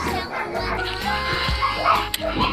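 Dogs bark and yip at an animal rescue shelter in Golmud, a cluster of short barks and whimpers close by with someone talking over them.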